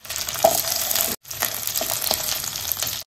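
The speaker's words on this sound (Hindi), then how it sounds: "तो मैंने तेल गर्म करने के लिए यहाँ पे रख दिया है तो मोमोज रख देते हैं।" Momos pan-fry in hot oil, giving a close, constant crackling sizzle with a brief break partway through and a few sharper spits.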